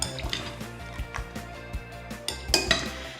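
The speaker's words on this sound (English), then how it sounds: "Now the pork goes into your marinade. Let's give that a really good mix." Pork being mixed into a marinade in a bowl, with a few clinks and scrapes of a utensil against the dish spaced out over a few seconds, louder near the end, fairly close and quiet with no talk.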